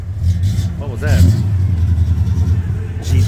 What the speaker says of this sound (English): Yeah, it sounds like a GTO.